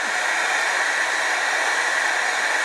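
Heat gun blowing hot air to melt embossing powder on a craft project, a steady, loud, even rushing whoosh that holds unchanged throughout with no voices.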